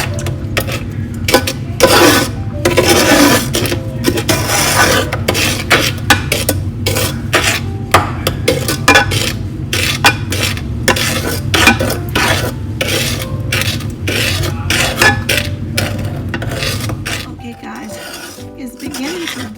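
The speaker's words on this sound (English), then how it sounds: "I'm going to continue to stir it until it starts to bubble" A spoon scrapes and clanks steadily around a pot of homemade holiday candy mixture, making rhythmic rasping strokes for most of the stretch and then stopping near the end; no voice is heard.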